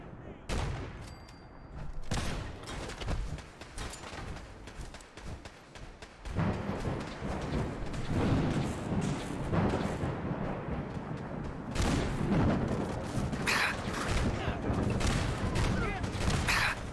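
Dense gunfire during a fight with gunners in Fallout 4: repeated shots and rattling bursts pile into a continuous loud barrage that swells and eases over the whole stretch.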